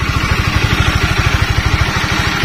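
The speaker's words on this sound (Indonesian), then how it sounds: "tinggal kita hidupin aja motornya" A Honda CBR 150 motorcycle engine idles up close, putting out a fast, even train of low thumping pulses with a slight mechanical clatter.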